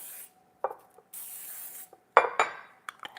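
Two short hissing bursts of cooking spray from an aerosol can, close by, followed by light clinks and rubbing sounds.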